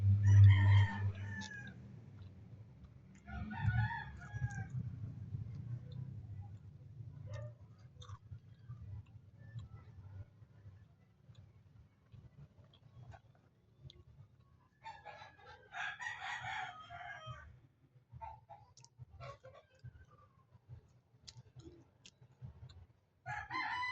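Chickens around a home, with a rooster crowing several times and hens clucking in short bursts close by, over a low steady rumble with no talking.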